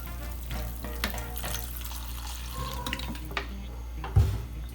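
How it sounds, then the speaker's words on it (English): Water pours into a hot pan, hissing and sizzling at a low level, with light stirring and a small clunk near the end. "So let's add some water."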